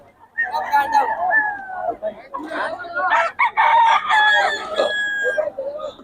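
A rooster crows loudly and repeatedly, with hens clucking around it, all close by, over a busy background of voices at a crowded market in Bocaue.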